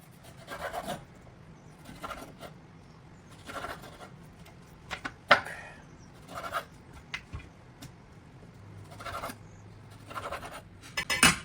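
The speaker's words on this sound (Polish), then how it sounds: "na takiej wielkości żeberka, pokroję" A knife saws through pork ribs in a series of rasping strokes with sharp scraping bursts and quiet gaps between cuts, close by and without talk.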